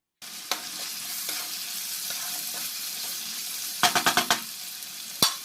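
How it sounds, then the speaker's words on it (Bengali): Turmeric and green chilies fry in hot oil for spicy semolina, a steady close sizzle running throughout, broken near the end by a quick run of sharp scraping stirs and one final clack, with no talking. "হলুদটা দিয়ে ভেজে নিলাম"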